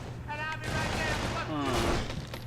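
Rapid gunfire crackles in the Urban Chaos video game, a burst of shots followed by another, with a voice talking over the game sound throughout.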